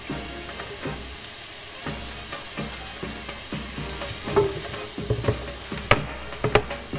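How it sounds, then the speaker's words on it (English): Onions and carrots sauté in a pan for baked lima beans, giving a steady close sizzle with stirring clatters and utensil scrapes that grow louder toward the end. "onions, and carrots. And I want to saute these guys until they start getting a little soft"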